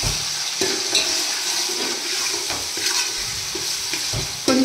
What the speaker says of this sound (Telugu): అల్లం వెల్లుల్లిపాయ స్మెల్ ఆయిల్లో వేగింది చాలా బాగుంటుంది.